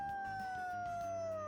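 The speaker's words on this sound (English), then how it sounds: "That's such a creepy dog sound." Long drawn-out dog howl in the game Persona 3 Reload, a single sustained tonal wail that slowly slides downward in pitch, fairly quiet, over a low ambient background.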